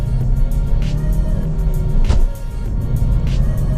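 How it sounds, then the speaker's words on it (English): A Vauxhall Astra K Mk7 pulls away in first gear, its engine humming loud and close with a short rise in revs and a brief clunk midway, no talking. "Okay, so we're just going to pull away here. So we're in first gear."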